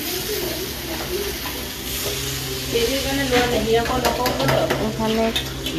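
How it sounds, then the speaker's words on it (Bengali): Potatoes frying at a household festive meal, a loud sizzle mixed with stirring and the clatter of pots and pans, with busy background chatter in the room throughout. "এখানে আলু ভাজা হচ্ছে"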